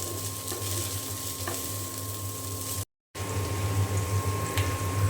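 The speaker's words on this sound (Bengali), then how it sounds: "যদি যে গরম করে ভাজা ভাজা করে নিই তাহলে কিন্তু শেষ হয়ে যাবে গরম গরম" Leftover khichuri frying and reheating in a pan, giving a steady close sizzle with a low hum underneath and a brief dropout midway.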